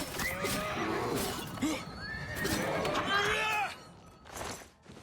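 A horse in the video game The Elder Scrolls IV: Oblivion Remastered whinnies loudly several times with rising and falling harmonic cries during a bear attack, mixed with game noise and some talking.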